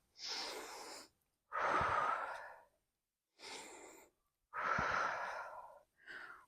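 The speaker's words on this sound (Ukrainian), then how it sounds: "Видих. Робимо вдих." Deep, forceful breaths during an interval workout, alternating long exhales and inhales in five separate bursts with short silences between, close and clear with no speech.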